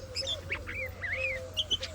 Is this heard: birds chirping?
yes